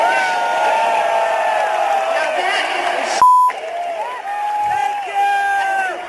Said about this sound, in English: listen to the drug addicts cheer